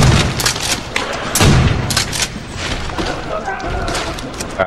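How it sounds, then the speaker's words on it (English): A trench gun fires in World at War Zombies, a few punchy booming shotgun blasts thudding close by amid game noise, with someone talking over the shots. "Wow, the trench gun's badass right now."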